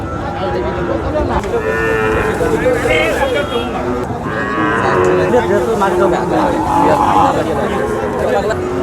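A local bull moos loudly and close at a busy cattle market, with repeated low calls over a constant background of crowd chatter and people talking.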